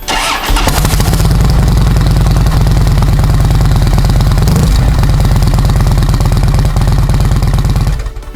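A Harley-Davidson motorcycle engine fitted with a Samson exhaust runs close and loud, giving a steady, deep, throbbing rumble for about eight seconds before cutting off abruptly at the end.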